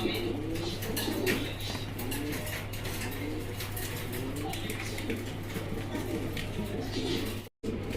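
A pair of fancy pigeons, sky-blue Rasgulla birds, coo softly at a pigeon market stall amid a low steady hum and scattered clicks, with someone talking over them throughout.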